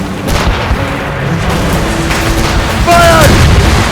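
Ship cannon fire in Assassin's Creed Rogue during a naval battle, a dense continuous rumble of booms and blasts under shouted orders and crew voices, with a louder burst near the end.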